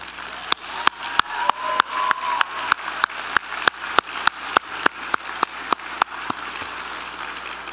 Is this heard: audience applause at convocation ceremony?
yes